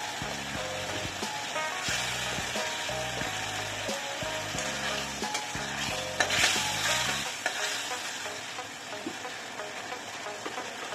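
Tangra catfish frying in a pan with a constant sizzle, while a rhythmic scraping and stirring repeats over it for several seconds and then stops, leaving the sizzle alone.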